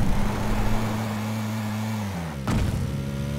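A car engine in the video game PlayerUnknown's Battlegrounds, humming with a steady low tone that shifts down, then a sharp burst and slightly changed running note, with no talk.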